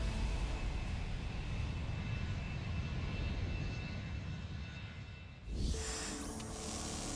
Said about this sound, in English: The C-919, the first large passenger aircraft made in China, has been cleared for takeoff.